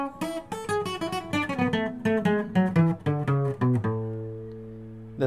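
A requinto guitar plays the fast part of a song, a quick run of bright plucked notes that ends on a ringing, sustained chord, close and clear with no talk.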